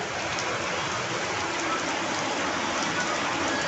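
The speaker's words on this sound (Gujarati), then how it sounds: "અત્યારે થઈ ગયો વરસાદ ચાલુ," Afternoon rain at a farm plot comes down steadily, a dense, close hiss of drops striking surfaces that continues without pause.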